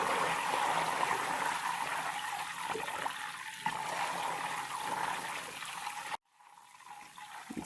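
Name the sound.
homemade ghee bubbling as milk solids cook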